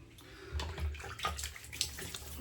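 Tap water runs into a sink before a wet shave, splashing unevenly at close range and rising and falling softly as hands move through the stream.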